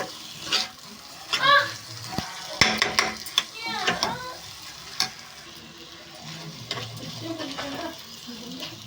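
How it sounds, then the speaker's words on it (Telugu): Bitter gourd masala frying in a pan while being stirred, with uneven scraping and clinking of the spatula over a soft sizzle and bursts of stirring activity. "ఇదైతే ఫ్రై చేసుకోవాలండి దగ్గరికి అయ్యే వరకు"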